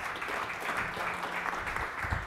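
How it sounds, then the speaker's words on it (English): An audience at a data science talk applauds in a steady, full wash of clapping that holds at an even level from start to finish, with no voices over it. "Round of applause, please."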